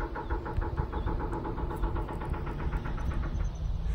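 Steady rhythmic knocking repeats a few times per second over a low, constant rumble: construction crew hammering on a bridge, carried across open air.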